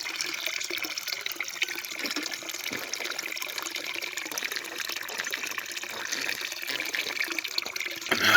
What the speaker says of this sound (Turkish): Kendi suyumuzu da dolduralım.